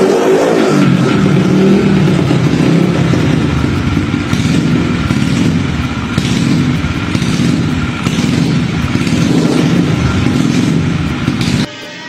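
A motorcycle modified to run on salted water via electrolysis roars loudly and steadily, revving with a rough, clattering engine note up close until it cuts off abruptly at the end.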